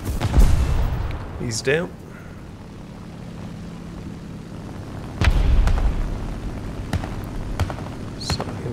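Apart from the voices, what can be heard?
bomb explosion in the video game War Thunder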